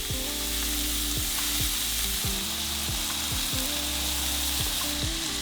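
Peppers and shallots sizzle loudly in a pan, a dense continuous frying hiss with scraping stirs at a regular rhythm and no voices.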